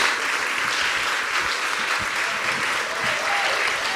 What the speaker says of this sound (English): So if you all would like to give him a round of applause.